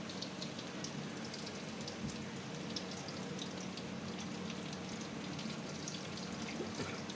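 Marinated prawns frying in hot oil in a pan give off a steady, even crackle and hiss that holds fairly quiet and constant throughout, with no voices.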